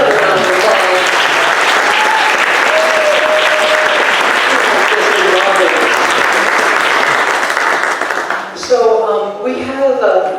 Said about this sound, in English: Let me give this fabulous student leader just another round of applause.